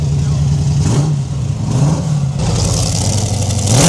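An American car's engine roars loud and near, its deep exhaust note rising and falling through repeated revs with a harsh rasp, then surging again at the end.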